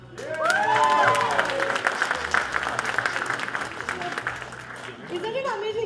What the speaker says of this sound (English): I need one more round of applause